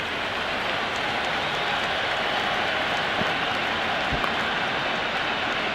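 Broad, steady crowd noise at a cricket stadium during an England versus India T20 match, a continuous roar of applause and murmur holding loud and even throughout, with no talk over it.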